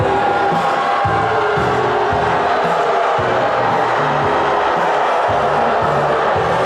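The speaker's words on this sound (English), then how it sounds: "And the crowd will let you know what they think about that." Hockey arena crowd reacting to a penalty call, a loud, steady roar of many voices filling the building and swelling in waves for several seconds with no clear talk on top.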